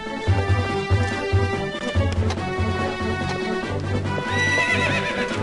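A horse neighing and trotting in Zelda: Twilight Princess, a loud whinny with steady clip-clop hoofbeats under game music, close and prominent.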